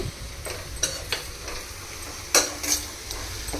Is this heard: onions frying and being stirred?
yes